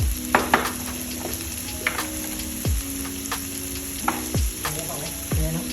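Food being stir-fried in a pan, a spicy dish seasoned with Rosdee, sizzling steadily with repeated scraping and tapping strokes of a spatula against the pan, close and fairly loud, with no talking.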